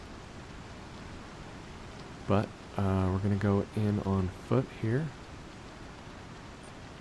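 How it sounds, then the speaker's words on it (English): Steady rain falls across Hurston in the game Star Citizen, a soft broadband hiss running through the whole stretch while someone talks over it. "Hurston gets so dark when it is raining like this."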